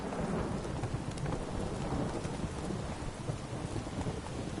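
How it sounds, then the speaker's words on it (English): Steady rain and rumbling thunder in the video game The Witcher 3 make a dense, continuous wash of storm noise at moderate level, with no voices. "If it don't stop raining, my arse will rot off."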